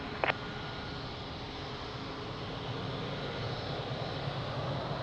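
An airliner taking off from runway 02 at Lisbon airport, heard from a distance as a steady broad engine roar that slowly builds. One brief click comes near the start and no one speaks.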